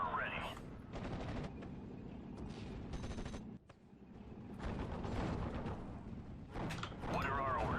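Gunfire from the Steel Division: Normandy 44 video game, battling around Pointe du Hoc, with clusters of rapid shots and bursts separated by short lulls, and voices talking over parts of it.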